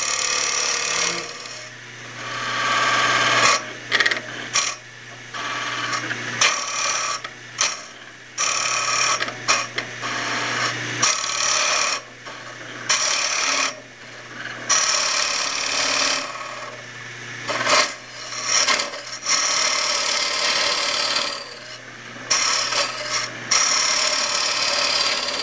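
A hollowing tool held one-handed cuts into wood on a lathe, giving a steady rasping, scraping rub with a few short pauses where the tool lifts off, loud and close with no talking.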